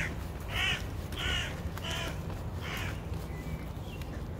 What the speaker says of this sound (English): Man, that crow is super loud.